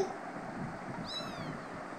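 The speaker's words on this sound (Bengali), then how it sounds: "ম্যাও" A kitten gives a single short, rising meow midway through, against a steady rush of wind-like background noise outdoors.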